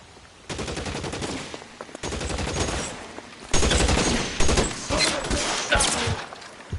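Shootout in the video game LA Noire: dense bursts of rapid gunfire crackle continuously, with heavier overlapping volleys building louder toward the end.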